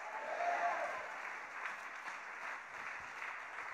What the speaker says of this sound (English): Clap your hands and shout yes.